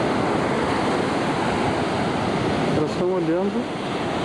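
Steady roar of sea surf breaking on a sandy beach at Matinhos and Caiobá, continuous and loud throughout, with a voice speaking briefly near the end over the waves.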